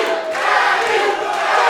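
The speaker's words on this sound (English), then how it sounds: "the red corner's crowd is going crazy" A boxing crowd at a Global Legion Boxing event cheers and roars in a steady, loud wash of voices with no break.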